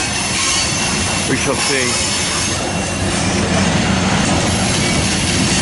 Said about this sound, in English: Santa Fe Heritage unit, BNSF, leaving. Pulling, I believe, empties into the yard.